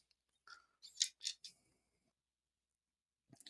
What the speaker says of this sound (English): Have to re-roll some dice here.